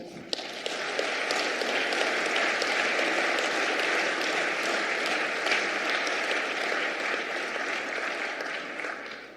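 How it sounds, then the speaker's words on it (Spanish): A church congregation gives a long, full round of applause, dense and steady from start to finish, without speech over it. "Denle un aplauso"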